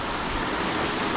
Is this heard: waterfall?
yes